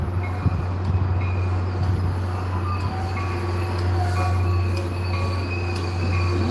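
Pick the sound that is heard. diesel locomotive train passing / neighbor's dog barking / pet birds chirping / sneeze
diesel locomotive train passing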